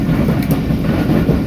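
A train at Kot Lakhpat railway station in Lahore, during heavy rain and flooding, gives a loud, close, continuous low rumble of rolling wheels and cars with a steady rushing noise.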